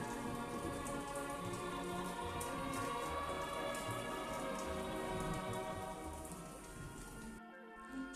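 Rain falls steadily, a soft continuous patter of drops on surfaces that stays fairly faint and even throughout with no voices.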